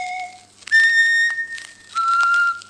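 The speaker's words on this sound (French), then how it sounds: "C'est le genre de sifflet primitif de différents tons" A primitive Malagasy folk whistle sounds steady piercing tones at several pitches, one after another in short held notes, loud and close with no voices.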